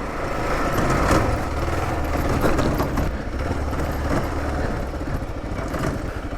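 A Kawasaki KLR650 motorcycle rides off-road over rough trail and logs, its engine droning steadily and loud and close throughout, with rising and falling revs and no talking.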